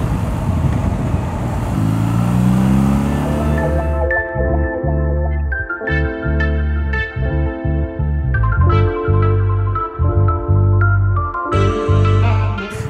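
A BMW R nineT motorcycle engine runs loud and close while being ridden, rising through revs at first, then dropping into steady, stepped tones broken by several brief dips as the rider shifts gears.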